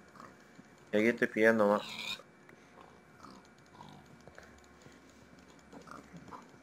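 A Minecraft pig grunts in a quick burst of loud oinks near the start, followed by keyboard clicking and quiet game ambience, with a person talking.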